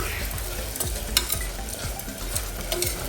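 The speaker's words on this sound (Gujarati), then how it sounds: "એકાદ મિનિટ માટે આપણે મગને પણ તેલની અંદર સરસ સાતળવા દઈશું" Soaked mung beans sautéing in hot oil, a steady close sizzle with rhythmic stirring scrapes repeating every fraction of a second, heard alone.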